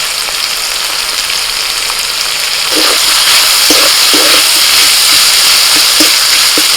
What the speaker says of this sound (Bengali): তিন চার মিনিট মতো চিকেনটা ভেজে নিয়ে